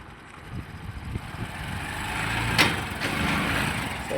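A farm machine's engine idles and runs steadily with a low continuous rumble, and a brief clunk of the gear lever shifting into reverse comes partway through.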